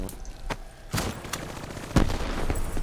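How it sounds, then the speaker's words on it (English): Gunfire in the video game Call of Duty Black Ops 3, Nightmare campaign: a string of sharp, punchy shots at irregular intervals, with one heavier blast near the end over a low background rumble. "I think it's weird that I can still decipher what sound of a gun that makes."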